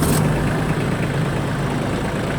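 A Shibaura D215F Japanese mini tractor's diesel engine catches and settles into a steady, even idle, loud and close throughout with no talking.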